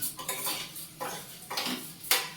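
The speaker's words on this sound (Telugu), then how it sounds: "కలుపుతూ ఫ్రై చేసుకోవాలి." A spoon stirs frying fenugreek dal in a metal pot, scraping and clinking against the sides in uneven strokes with a soft sizzle beneath, close and fairly loud.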